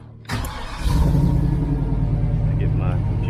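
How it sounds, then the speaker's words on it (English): A turbocharged Chevrolet Silverado truck engine fires up and settles into a steady warm-up idle, a loud close rumble after a brief start-up burst, with a voice faintly over it. "Let the truck warm up."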